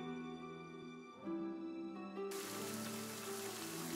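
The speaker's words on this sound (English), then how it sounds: "Oh, we have a rain noise." Steady humming tones give way to a dense, even patter of rain that continues to the end.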